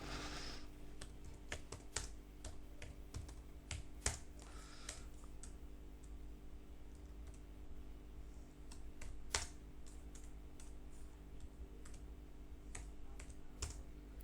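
Typing on a computer keyboard, with steady quiet key clicks in uneven bursts and a few sharper louder strokes, close by over a low constant hum, with no talking.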